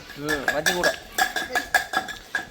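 A spoon scrapes and clinks rhythmically against a metal pot while spice powder is stirred into a Jaffna-style meat curry, with a voice talking over the opening stirs.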